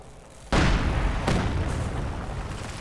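Mortar fire in the World War II strategy game Company of Heroes 2: a sharp boom bursts out and rumbles away, followed by a second, lighter impact, with battle noise trailing.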